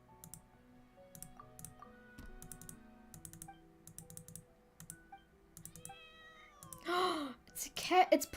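A cat meows in Genshin Impact, a short mewing call rising over keyboard typing and clicking, followed by louder bursts of game sound.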